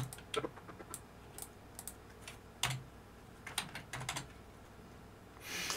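Typing on a computer keyboard during video editing at a desk: sparse, irregular clicks and clusters of keystrokes, close and quiet, with no talking.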